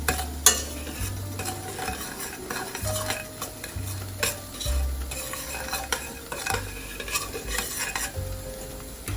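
Bananas simmering in coconut milk sweetened with brown sugar, stirred in a pot, giving a soft bubbling simmer with repeated scraping and light clinks of a utensil, no voices.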